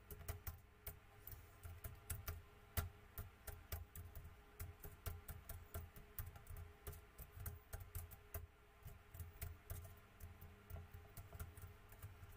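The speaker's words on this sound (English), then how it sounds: "if you heard that, like, the tapping of the keys" Rapid, irregular tapping of computer keyboard keys, fairly close and steady throughout, with soft clicks over a low background hum and no voices.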